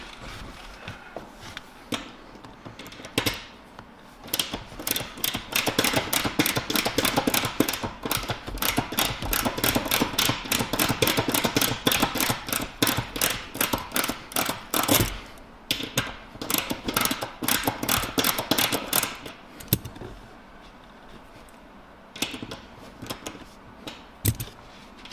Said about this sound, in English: I'm going to use the ratcheting wrench here on the console side of the driver's seat